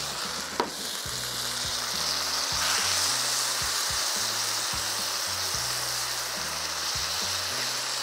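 Bacon and an added ingredient frying in a pan while being roasted down for a pastrami sandwich, a steady close crackling sizzle with a single sharp knock early on and a background hum underneath.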